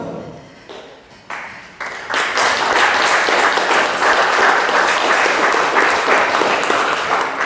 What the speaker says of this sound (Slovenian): ta aplavz za film